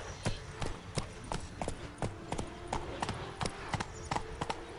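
Hooves of the horse Roach galloping in The Witcher 3, a quick, steady run of clopping beats close by, with a low game ambience underneath.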